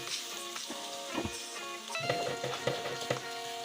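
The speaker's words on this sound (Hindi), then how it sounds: "प्याज ब्राउन करते हुए थोड़ा सा मैं नमक ऐड कर देंगे ताकि प्याज जले नहीं और अच्छे से ब्राउन हो जाए" Sliced onions browning with a little salt in a frying pan, giving a steady soft sizzle with occasional scraping stirs, close and fairly quiet, with no voices.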